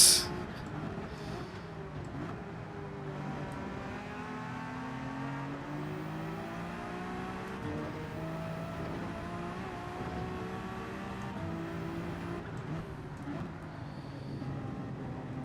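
Porsche race car engine in Gran Turismo 7 on the Nurburgring Nordschleife, a steady high-revving drone with rising and falling gear sweeps, continuous and close with no talk.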